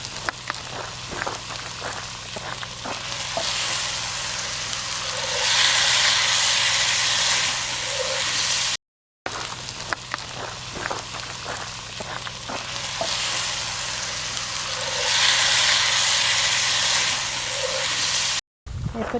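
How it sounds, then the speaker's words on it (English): Food frying in a pan at an outdoor mountaintop campsite crackles with a continuous loud sizzle, while repeated scraping strokes mark the stirring, which comes in two longer spells. "Stir it up."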